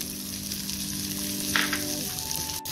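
Finely chopped carrots go into a hot pan for sweet corn soup, setting off a loud, continuous close sizzle, with a sharp brief clink near the end and nobody talking.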